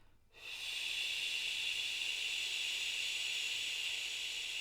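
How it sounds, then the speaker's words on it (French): A person breathes out through the mouth after holding a breath during a seated body-awareness exercise, a steady, close, breathy hiss that starts abruptly and holds evenly without talk. "nous gonflons la cage thoracique, nous retenons la respiration et nous vidons par la bouche"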